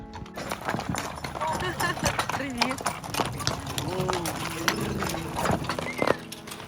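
Horse hooves clip-clop in a village in Verkhovyna, Zakarpattia, in western Ukraine, a steady walking rhythm heard close by beneath ongoing conversation, with people talking throughout.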